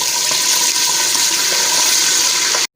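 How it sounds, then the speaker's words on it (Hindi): Chickpea stock pours in a steady, loud rush of liquid into a pan of lightly browned onions, continuous and close for a few seconds before cutting off abruptly. "अब इसमें चनों की यखनी डालेंगे"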